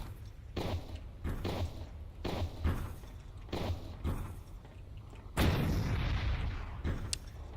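Muffled thuds and bursts repeat in an uneven rhythm through a video game, then a louder, rumbling explosion hits near the end, all at moderate level with no talk.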